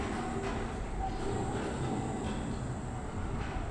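Tram rolling along a tramway in the video game Abiotic Factor, a steady continuous rumble and rail hiss with faint metallic squeals, unbroken throughout.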